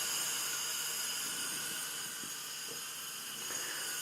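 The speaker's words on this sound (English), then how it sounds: "it's quite an aggressive noise, the steam coming off the pressure cooker." Steam hisses steadily from a pressure cooker making chicken soup on the stove, a continuous harsh, bright rush that holds fairly constant and close for the whole stretch, with no talking over it.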